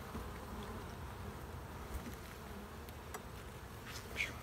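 Honey bees from a weak, sparsely populated hive hum in a faint, steady drone, with a few individual bees buzzing closer now and then.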